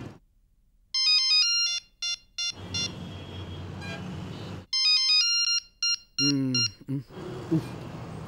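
A phone ringtone chimes in repeated electronic bursts with short gaps, separated by a stretch of noisy background, followed by a brief voice at the end.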